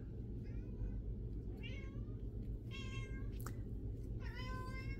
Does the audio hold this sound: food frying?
no